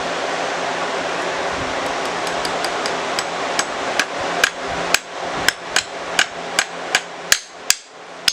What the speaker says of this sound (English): I'm going to go ahead and hammer this in a little bit more